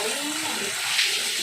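Tap water runs steadily over boiled pork pata being rinsed in a sink, a continuous broadband splashing hiss that stays fairly even throughout with a slight surge near the end.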